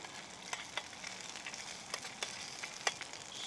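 Food sizzles steadily in a frying pan over a Kelly Kettle in a hazel woodland, a soft crackling hiss with scattered sharper pops, fairly quiet and with no talking.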